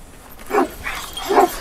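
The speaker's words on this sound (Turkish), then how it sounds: "Daha bu pitbullumuz da burada bak." A pitbull gives two or three short, mid-pitched barks or yips, fairly close and moderately loud, spaced about a second apart over a quiet background, with no talking.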